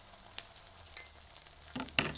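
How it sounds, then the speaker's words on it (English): An egg frying on a hot plate for a Thanksgiving meal, a soft steady sizzle broken by a few sharp crackles and pops, louder toward the end, with no voices. "Sizzle, sizzle, crack top. Do you hear that noise?"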